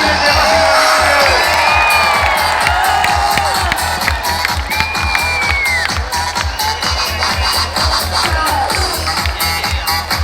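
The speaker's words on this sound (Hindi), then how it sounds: "तालियां बजाइए देवाशीष के लिए" Crowd at a Samsung employee achievement celebration claps and cheers for an award winner, steady loud applause with whoops and shouts throughout, no talking over it.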